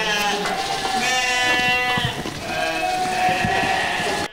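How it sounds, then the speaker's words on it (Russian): Romanov sheep, an old Russian breed, bleat on a farm: a dense chorus of overlapping calls from several animals, loud and continuous throughout, with no talk over them. "Большинство овец старинной романовской породы, которую вывели в России."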